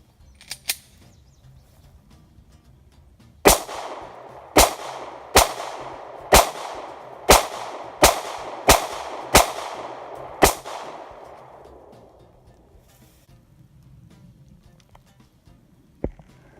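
A Taurus Millennium G2 9mm pistol fires nine loud, sharp shots at a steady pace of roughly one per second outdoors, each crack followed by a fading echo, with one more distant shot at the end.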